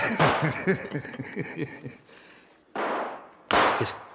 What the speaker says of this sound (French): Des coups de feu, il me semble.